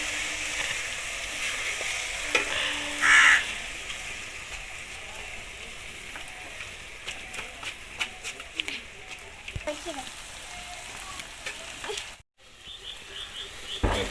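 Drumstick flowers in egg batter fry in hot oil, giving a soft, even sizzle with scattered faint taps and clatter, briefly cutting out near the end before resuming.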